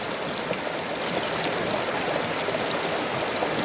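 Steady rush of spring water flowing out of the ground and splashing nearby, continuous and fairly full, with no voices.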